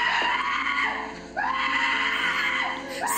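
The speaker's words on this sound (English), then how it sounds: "Screaming like a little bitch!" A person screams in a Korean drama scene: long, loud, strained, rising and falling wails that run almost without a break, with a short dip midway before the screaming surges again.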